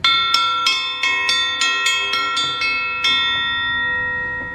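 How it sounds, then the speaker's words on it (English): A heavy dinner bell at an old frontier town museum, rung repeatedly: about ten loud, bright metallic strikes in an uneven rhythm, each ringing on and decaying into a sustained tone. "Ring your bell. It's dinner time."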